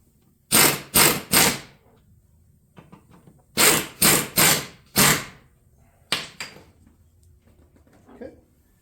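Bolts are tightened down on a Club Car Precedent golf cart seat: two close groups of three sharp mechanical bursts, then a weaker pair, with faint clinks between.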